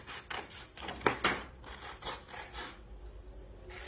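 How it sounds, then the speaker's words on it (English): Material being cut to size along a drawn line: a quiet, close series of short snipping and rasping strokes with brief pauses between them, no voices. "And we cut it to size."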